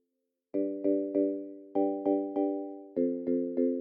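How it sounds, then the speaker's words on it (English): Struck vibraphone notes from a Tritone software instrument ring out in a slow melodic sequence, each mallet hit sustaining and fading into the next, clear and alone. "Vibraphone from Tritone."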